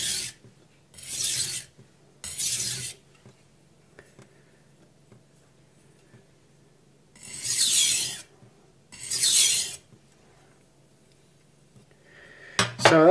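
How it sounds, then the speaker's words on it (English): A soaked Chinese whetstone pressed and rubbed, giving loud rasping scrapes in pairs of strokes separated by quiet gaps, close up, with a brief clatter at the end. "when I push down onto the stone, the water comes out"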